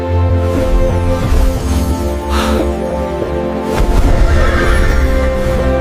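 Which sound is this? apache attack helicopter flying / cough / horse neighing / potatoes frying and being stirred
horse neighing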